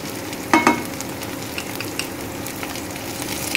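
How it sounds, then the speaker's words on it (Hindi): Green chilies and chopped garlic frying with browned onions in a pan for bhindi sabzi, a steady low sizzle with a couple of sharper crackles near the start, close and alone. "अब इसमें हम ये हरी मिर्ची जो रखी थी हमने वो डाल देंगे, फिर ये जो लहसुन जो चॉप करके रखा था वो डाल देंगे।"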